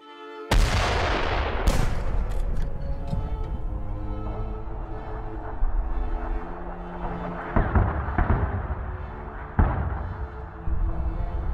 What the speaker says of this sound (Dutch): We kunnen het kanongebulder tot in Limburg horen.